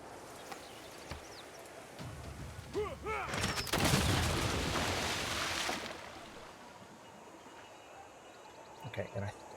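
Warships trading gunfire in Civilization VI, with a cluster of booming, crackling shots rising midway through the clip over faint ambient game sound, and someone talking at moments.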